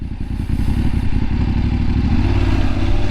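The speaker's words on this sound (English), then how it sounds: "Yeah, it's always fun to do that water crossing." Motorcycle on an adventure ride in Doi Chang pushing through a water crossing, its mid-pitched engine droning steadily and loud up close, with churning water clatter throughout and no talking.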